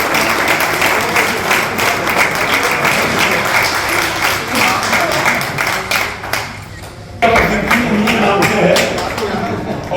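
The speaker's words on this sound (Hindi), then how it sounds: "इसके बच्चे का जोरदार तालियों से स्वागत करें" Loud applause from a crowd at a Bhagwan Parshuram Janmotsav function, welcoming a child with sustained dense clapping that dips briefly near the end, then resumes at full strength.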